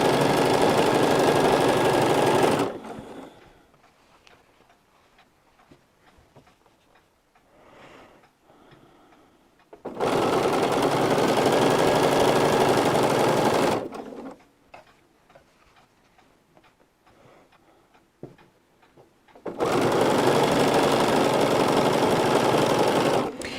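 A sewing machine stitches quilt fabric scraps in three loud, fast-running bursts of rapid mechanical chatter, each lasting a few seconds, separated by quiet pauses filled with faint handling sounds.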